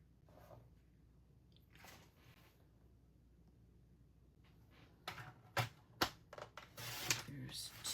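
Scissors cut through holly-patterned paper for a handmade card, first a few quiet snips and then a quicker, louder run of crisp cuts near the end.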